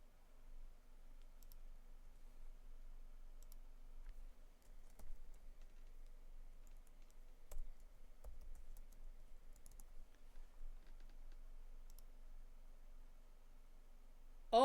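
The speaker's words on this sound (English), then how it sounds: "I see him typing." Faint, scattered clicks of typing on a computer keyboard, soft irregular keystrokes over a low steady hum, ending with a short louder noise.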